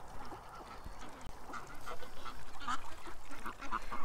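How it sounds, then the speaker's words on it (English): Ducks gathering at a muddy hole quack in short scattered calls against a steady outdoor background, growing busier and a little louder toward the end. "the ducks waste no time, eh? I leave and they all come to the mud hole."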